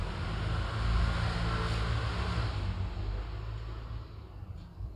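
A worn front wheel bearing on a used Toyota Vios rumbles as the car moves, a dense, low, steady roar that swells early and gradually fades.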